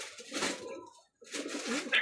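Pigeons cooing softly at close range in two short bursts separated by a brief silence, with a faint higher chirp at the end.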